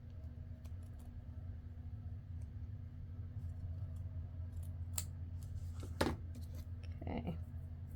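Scissors trim paper for an envelope pocket with a few sharp, crisp snips near the end, set against a low steady rumble of background noise.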